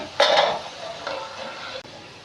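Palakayalu, small rice flour and cumin snacks made with milk and ghee, fry in hot oil, giving a brief loud sizzling burst and then a softer bubbling hiss with a light scrape of utensils.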